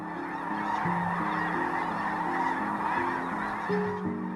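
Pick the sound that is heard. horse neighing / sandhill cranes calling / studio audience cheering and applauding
sandhill cranes calling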